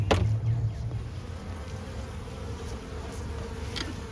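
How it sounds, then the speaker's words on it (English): Honey bees in a weak hive buzz close by in a low, continuous drone, with a few sharp knocks and rustles near the start. "there's still a handful of bees in here"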